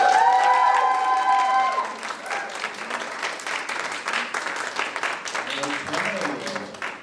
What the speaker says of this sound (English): clap, whoop, holler,